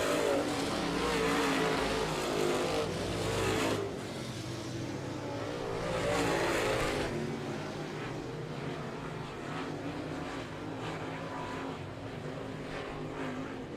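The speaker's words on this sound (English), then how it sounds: "Hooker trying to reel him in, but just can't do it as Panaccio still not giving up on that top side" Late model stock cars race around Humberstone Speedway in an 8-lap heat, a loud sustained roar of several engines that swells and fades slightly as the pack passes, with no talk over it.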